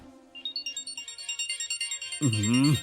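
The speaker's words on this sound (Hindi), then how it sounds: "देख किसका फोन है।" A phone ringtone chirps in a quick repeating electronic pattern, close and clear, before a burst of speech cuts in over it near the end.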